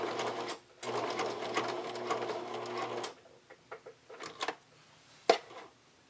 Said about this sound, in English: using the zigzag stitch, I'm just going over the edge of my lace, attaching it directly on top of the gusset, and stitching through all the layers